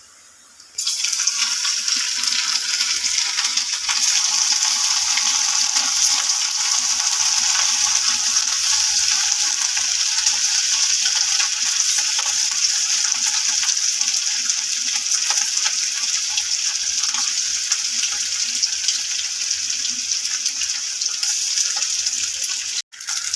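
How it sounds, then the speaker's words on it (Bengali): Marinated chicken fries in hot oil in a wok, a loud, dense, continuous sizzle that starts abruptly and holds steady for over twenty seconds before cutting off. "চিকেনটা ম্যারিনেট হয়ে গেছে, এবার ভেজে নেব। তেল গরম হয়ে গেছে"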